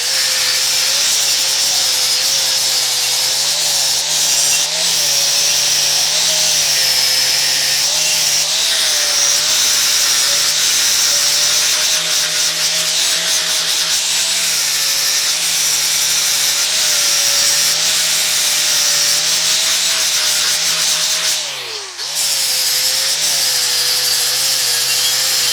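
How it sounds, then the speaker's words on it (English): Power grinder cleaning up a weld on a ranch-style entryway during mobile welding work, a loud continuous whining, rasping drone that holds steady throughout and briefly dips once near the end, with no talk. "So we'll clean it up with a grinder and it'll end up looking like that."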